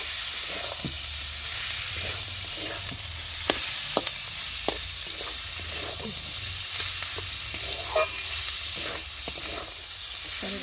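Spice paste for a Bombay duck (lote fish) curry fries steadily in oil, a continuous close sizzle broken by occasional sharp crackles and pops and soft stirring scrapes, with no talking.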